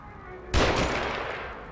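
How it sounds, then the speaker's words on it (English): Gunfire in the survival horror game The Evil Within, a sharp burst that hits suddenly after quiet room tone and then decays with a ringing tail. "No, something's shooting."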